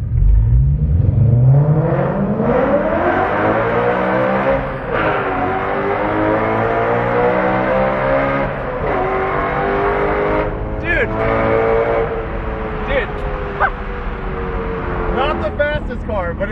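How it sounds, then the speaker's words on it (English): A widebody 530whp BMW 135i time attack car revs hard through the gears toward high RPM, loud and close with rising and falling engine tones throughout, while people talk over it. "So this car is a lot slower, but I would say it sounds better."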